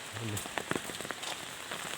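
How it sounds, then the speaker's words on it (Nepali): Heavy first rain of the season pours down in a steady, dense wash of drops drumming on surfaces, with a short low hum near the start and scattered louder splashes throughout; a voice is faintly present underneath. "पानी यस्तै परेको छ हेर्नुहोस्, पानी खतरनाक पानी आइरहेको छ।"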